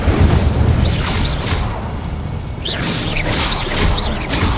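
In the Hogwarts Legacy video game an Incendio fire spell is cast, giving a loud, dense burst of whooshing, crackling fire and impact noise with high magical chimes over it, filling the whole moment without talk.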